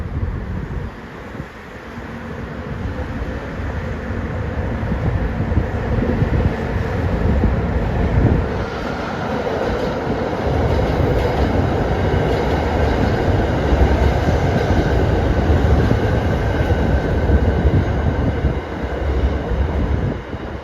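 A long-distance southern line train rolls past Bang Sue in Bangkok, a steady loud rumble with wheel clatter and wind noise that continues without a break for the whole stretch, with no voices.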